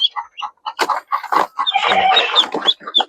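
Rhode Island hens cluck close by in a run of short, clear calls that rise into a denser stretch of overlapping clucking before breaking into spaced single notes again.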